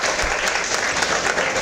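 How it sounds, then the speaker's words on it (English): An audience at an Indian academic event breaks into a short, dense burst of clapping, steady and close, lasting under two seconds. "A big round of applause for all his achievements."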